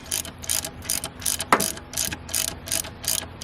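A 3/8-inch long ratchet clicks steadily in rapid bursts while turning the tensioner pulley on a 2007 Saturn Ion 2.2L, with one sharper metallic clunk midway; close and alone, no talking.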